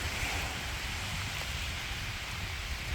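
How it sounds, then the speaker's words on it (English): Steady rain falls outdoors at a shooting range at night, a dense, even hiss of drops with no pauses, close and constant throughout. "Back outside again, in the rain again"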